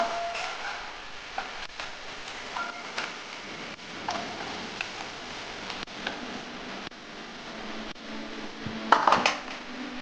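Fried potatoes are lifted out of a pan of hot oil, with light clinks and scrapes of a metal spatula against the pan over a soft background sizzle, including a brighter clatter near the end.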